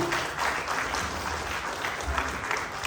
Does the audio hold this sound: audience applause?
yes